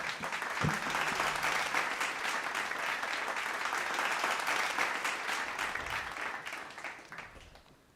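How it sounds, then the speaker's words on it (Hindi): An audience at a Hindi literary festival stage event claps loudly in sustained, dense applause that holds steady for several seconds before fading at the end. "एक बार जोरदार तालियां सर के लिए।"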